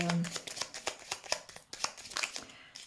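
Tarot cards are handled and laid down on a table, producing a quick series of soft slaps, flicks and shuffling rustles, close and intimate, with a brief voice at the start.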